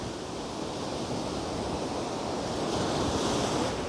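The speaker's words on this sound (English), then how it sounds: "So here is the beach. We're about to feel the water for the first time." Ocean surf rolling and breaking on Myrtle Beach, a steady loud wash of waves filling the whole moment, with some wind noise on the microphone and no voices.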